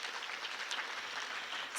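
At a mental health conference in a performance arts center on Kauaʻi, an audience claps in a dense, continuous burst of applause with no voices over it.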